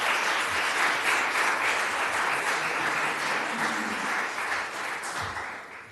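An audience at a city commission meeting claps continuously, a dense, even patter that fades slightly toward the end, with no voices over it.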